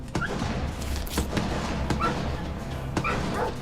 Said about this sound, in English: These dogs suck.